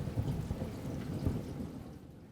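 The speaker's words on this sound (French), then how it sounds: "Le lendemain matin, il pleut sur l'île de la Réunion." Rain falling on Réunion island, a dense low rumbling patter with occasional heavier thuds, steady and close, no voices.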